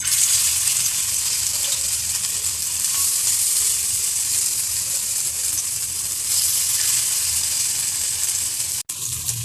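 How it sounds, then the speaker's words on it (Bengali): Banana flower fritters seasoned with salt and turmeric frying in hot oil in a frying pan make a continuous loud, close sizzle that holds steady for the whole stretch, briefly cutting out near the end. "আমি এই ফ্রাই প্যানে বড়াটা ভেজে নেব।"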